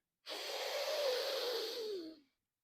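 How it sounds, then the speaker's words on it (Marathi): One long, deep inhalation during a yoga breathing exercise, close and clear, a breathy hiss lasting about two seconds with silence before and after. "श्वास आत घ्यायचा"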